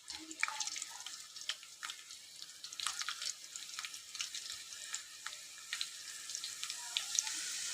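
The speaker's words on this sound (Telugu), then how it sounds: "ఇప్పుడు ఆనియన్స్ మంచిగా వేగినాయి కదా" Onions frying in hot oil for a curry, a continuous crackling sizzle dense with sharp spitting pops, steady and close throughout with no talk.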